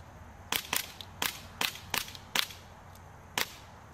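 A gas-powered airsoft pistol fires at an Asus eePC netbook in a rapid, irregular run of about eight or nine sharp, close snapping cracks, some fainter than others, with no voices.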